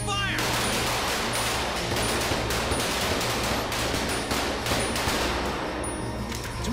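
Sustained automatic gunfire volley from soldiers opening fire, loud and dense throughout with continuous rattling bursts over a low rumbling background, in a sci-fi action scene.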